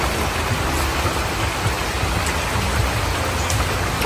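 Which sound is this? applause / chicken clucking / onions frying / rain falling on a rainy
rain falling on a rainy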